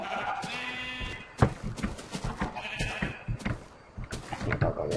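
Sheep in a survival video game bleat several times, nasal wavering calls over soft thuds and game noises.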